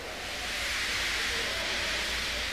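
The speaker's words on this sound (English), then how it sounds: "He just let off steam feebly." A steam engine lets off steam feebly in a steady, soft, unbroken hiss that carries on at low volume with no talk over it.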